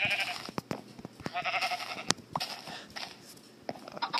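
Sheep bleating in a video game, a few wavering bleats mixed with sharp clicks and taps, no talking.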